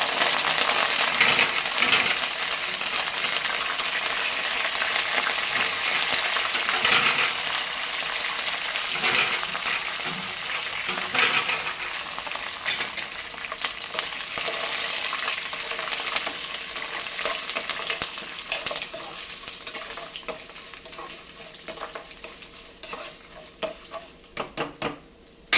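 A tempering of curry leaves fries in hot oil for a tomato and ridge gourd chutney, a continuous crackling sizzle with spoon stirring and scraping throughout, fading toward the end.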